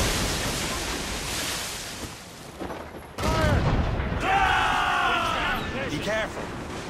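Ship cannons fire in a naval battle in Assassin's Creed Rogue, heavy booming shots over the roar of wind and sea, with a burst of loud blasts and rumbling partway through, while voices call out.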